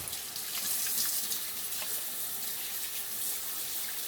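Steady rush of running tap water into a kitchen sink while hands are washed with soap, a continuous hiss with faint splashes and no talking, heard close up.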